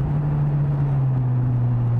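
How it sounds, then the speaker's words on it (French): A Suzuki GSX-S motorcycle engine hums steadily while riding, a close, even drone holding one pitch with a second tone joining partway, without speech. "qu'on entend bien le son de la moto"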